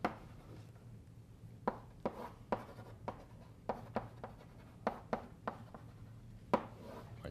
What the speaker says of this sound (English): Let me write it again.